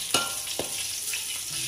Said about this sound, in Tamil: இப்போ வந்து பட்டை மிளகாய் போட போகிறேன்.